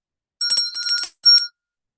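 A small coffee bell rings in quick bright strikes, a run of shimmering chimes followed by a short pause and one more ring, clear and close.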